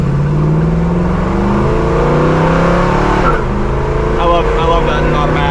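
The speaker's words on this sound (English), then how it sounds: "That second gear scratch, yeah." A 1971 Chevrolet Nova SS with an automatic transmission accelerates hard, its engine note climbing loudly, dipping as it shifts into second gear, then pulling again, heard from inside the car with people talking over it.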